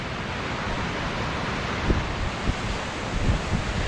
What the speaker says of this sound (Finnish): Virtaava vesi on aina jees.